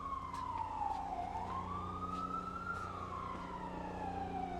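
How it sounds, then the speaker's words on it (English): An ambulance siren wails along a New York street, its pitch sweeping down and back up in a long continuous cycle, loud and close over steady traffic rumble. "It's an ambulance."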